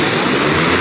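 A large agricultural pesticide-spraying drone starting up at a farmers' fair, giving a loud, steady propeller whir with broadband rotor noise that runs unbroken and close throughout, with no voices.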